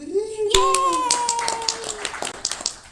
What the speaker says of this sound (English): Dane Reed has just given himself the clap